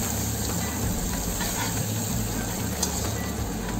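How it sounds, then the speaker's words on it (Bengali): Spices being sautéed for iftar crackle and hiss in a pan, a constant close sizzle with faint stirring scrapes and no voices. "এখন মশলা কষিয়ে পরে ছোলা কষাবো।"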